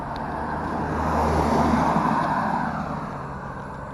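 A vehicle towing a 20-foot trailer fitted with extended mirrors, heard from inside as a steady road and engine rumble that swells slightly and then settles, with no talking.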